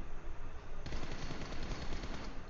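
Sustained automatic gunfire in a video game as a car is shot at, a dense rapid rattle of shots filling the clip with no pause, steady and loud.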